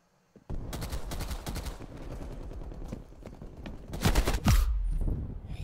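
Rapid semi-automatic gunfire in Call of Duty Black Ops Cold War, a near, dense stream of sharp shots running almost throughout, with louder heavy blasts near the end.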